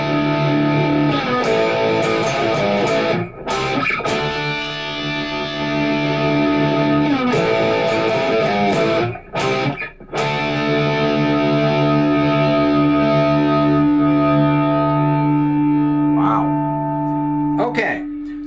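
A Donner 152s Strat-style electric guitar on its bridge humbucker with the tone knob at 10 rings out in sustained chords and notes through distortion and effects, loud and close, with brief pauses between phrases.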